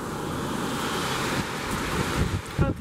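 Strong hurricane wind during Hurricane Irma, a continuous loud roaring rush of air battering the microphone with gusts, heard alone with no talk.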